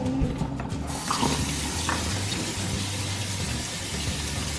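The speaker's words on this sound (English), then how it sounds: "We're just gonna let the cold water hit it and drain it" Cold water runs steadily from a kitchen tap over drained noodles in a sink, a continuous close splashing rush after a brief clatter at the start.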